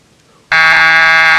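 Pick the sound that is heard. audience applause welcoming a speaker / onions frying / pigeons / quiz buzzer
quiz buzzer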